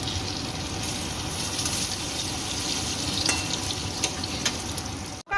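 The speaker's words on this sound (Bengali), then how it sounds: "এবার একটা একটা করে ধোকা তেলে 2-4টে করে ধোকা তেলে দিয়ে ভেজে নেব।" Chana dal cakes (dhoka) frying in hot oil, a steady close sizzle and bubbling hiss running throughout with a few sharper crackles and pops, no talking.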